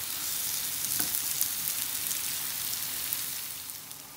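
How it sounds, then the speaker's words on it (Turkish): Chopped onions sautéing in a pan until pink, a steady close sizzle and crackle of frying that runs unbroken with no talk. "Şimdi dediğim gibi pembeleşinceye kadar kavuracağım."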